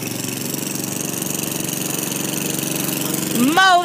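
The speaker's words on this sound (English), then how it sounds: "mowing the grass" A lawn mower mowing grass runs as a steady, buzzing mid-pitched engine drone, loud and close, with a brief rising whine near the end.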